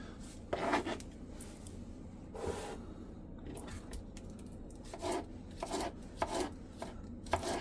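A knife chops bell peppers into strips for fajitas, cutting on a board in close, irregular sharp taps, some clustered quickly and others spaced apart, against a quiet kitchen background.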